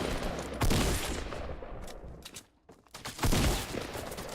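Shotgun blasts in the Fortnite video game, two loud bursts of gunfire about three seconds apart, each with a ragged tail. A brief quieter gap falls between them.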